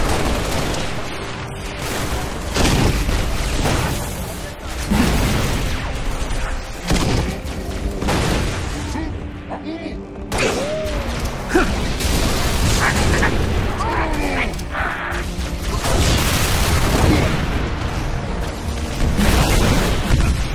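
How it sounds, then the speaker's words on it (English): Loud, continuous Halo: Reach battle noise against an invading Covenant army, with repeated booming blasts and rumbling explosions, dense and chaotic, with voices occasionally shouting over it. "so many explosions"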